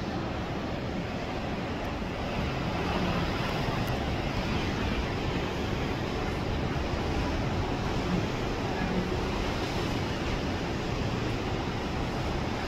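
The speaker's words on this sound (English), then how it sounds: "You can feel the waves and the wind hitting us." Strong wind roars steadily with waves washing and slapping against a boat at the Costa Maya cruise port, a constant broadband rush with no pauses.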